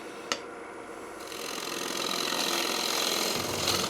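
A wood lathe turns eastern red cedar while a tenon is formed, giving a steady close whir with a rising hiss of cutting, and one sharp click near the start.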